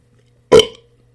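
A woman sipping water lets out one sudden short burp, loud and close, alone against a quiet background with faint low hum.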